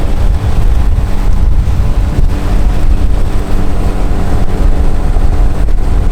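A jon boat's outboard motor drones loudly and steadily on Raystown Lake, mixed with heavy wind buffeting the microphone throughout.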